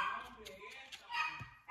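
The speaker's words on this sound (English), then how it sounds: "My dog is barking in the background." A dog barks a few times in the background, under a person talking nearby.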